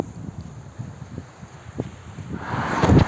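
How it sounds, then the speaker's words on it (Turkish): Gusty wind buffets the microphone on an island near Didim, İzmir, building into a loud rumbling roar toward the end, with faint rustling beneath. "Çok rüzgar var."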